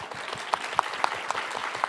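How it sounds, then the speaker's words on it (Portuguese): A roundtable audience at a mangrove conference in Brazil gives a short, light burst of applause, with a few sharper individual claps standing out from the soft patter. "Palmas para ele."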